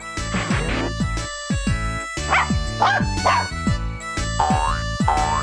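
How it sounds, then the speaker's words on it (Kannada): A small cartoon puppy barks and yips in short bursts against bouncy background music, with springy boing-like effects mixed in. "ಒಂದು ಪುಟಾಣಿ ನಾಯಿ ಮರಿ ಜಿಗಿತಾ ಜಿಗಿತಾ ಪಾರ್ಕ್ ಒಳಗ್ ಬಂತು"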